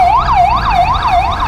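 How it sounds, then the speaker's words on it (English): An ambulance siren wails loud and close on a city street, its pitch sweeping up and down in a fast repeating yelp over low traffic rumble. "Here is an ambulance."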